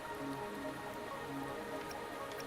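Rain patters onto surfaces in the Wuthering Waves video game, a close, continuous spatter of drops with scattered drips, steady and fairly quiet, with soft background tones and no voices.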